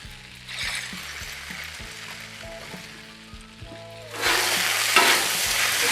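Drunken chicken noodles searing on a Blackstone griddle with extra oil, giving a steady close sizzle with spatula scrapes and clacks that swells louder near the end.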